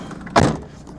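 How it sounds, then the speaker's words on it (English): A 2002 Ford Puma car door slams shut once with a solid, close thump, then quiet. "shut that door."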